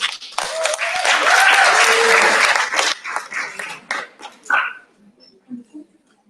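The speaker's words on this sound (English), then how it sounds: "And one clap for her, please" A short round of applause at a student congress general assembly, a burst of group clapping that fades into scattered claps, followed by voices speaking.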